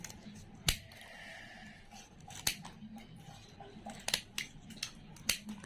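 A cutter snips through the copper coil of a ceiling fan under repair, giving several sharp, separate clicks spaced a second or more apart over a low, steady background, with no talking.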